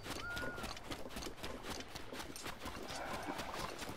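Horse hooves clip-clop steadily in Zelda: Breath of the Wild, a continuous rhythmic trotting of ordinary horses over a dense game soundscape, with no talk.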